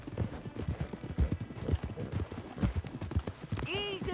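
Horse hooves clip-clop in Red Dead Redemption 2, a rapid run of close hoofbeats on hard ground that slows, then a brief whinny near the end, with a voice speaking over it.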